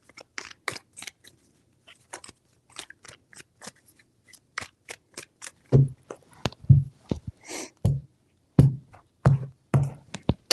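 Cards are riffled and bridged in quick bursts of crisp fluttering snaps, faint at first and then louder, thumping shuffles, with no talking.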